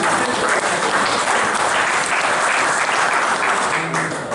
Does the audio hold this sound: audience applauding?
yes